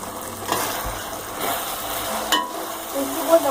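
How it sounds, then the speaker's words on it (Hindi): Capsicum and carrot frying in a pan with sauces for masala macaroni, giving a steady, close, even sizzle with faint stirring scrapes now and then. "सब्जियाँ हमारी फ्राई हो गई हैं। हमने इसके अंदर शिमला मिर्च और गाजर ऐड कर दी।"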